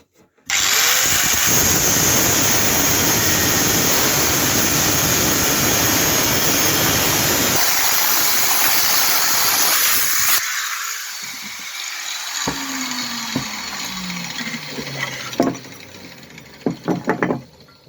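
A metal pipe is cut to make a clamp ring for a homemade hand-held corn sheller, a loud continuous power-tool whine running steadily for about ten seconds, then winding down with scattered clanks and knocks.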